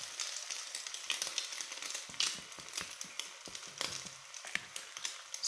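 French toast sizzles in a hot pan, a close, steady crackle of frying with irregular sharp pops and spits, heard alone without talk.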